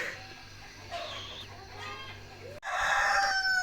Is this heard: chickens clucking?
yes